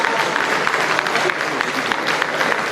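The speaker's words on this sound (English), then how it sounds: "Ladies and gentlemen, one more big round of applause." Audience applause for an award winner at a live ceremony, a steady dense wash of clapping filling the whole stretch at even volume.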